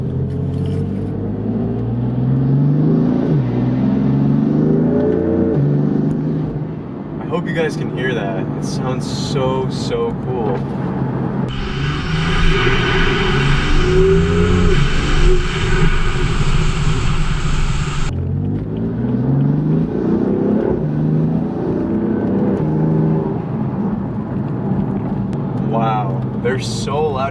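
A BMW M4 fitted with a dual intake rumbles loudly up close, with a strong rushing turbo spool building through the middle and blow-off whooshes, while someone talks over it.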